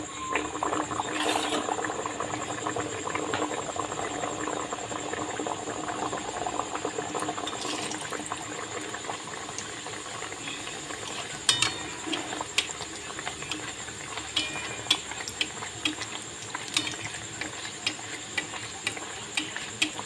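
Nanpuri dough fries in hot oil, giving a continuous close crackling sizzle dotted with sharp pops and ticks throughout.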